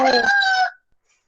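A chicken lets out one loud, close, drawn-out call lasting under a second and then stops, leaving near silence.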